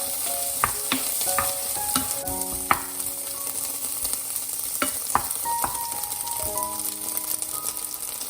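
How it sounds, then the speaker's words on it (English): Soya meat pan-fried and sautéed in a pan gives a steady sizzle, broken by repeated sharp scrapes and clinks of a utensil stirring against metal. "Pan fry the soya meat. Do some saute to avoid burning."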